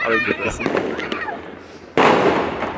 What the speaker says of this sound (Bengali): দেখুন কিছুক্ষণ পর পরেই আতসবাজি ফুটেছে